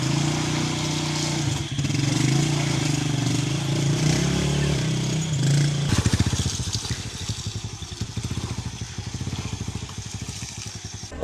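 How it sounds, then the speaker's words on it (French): A motorcycle engine idles with a low, steady drone, then pulls away with a rough, pulsing putter that stays fairly close throughout. "il faut descendre de la voiture et prendre une moto."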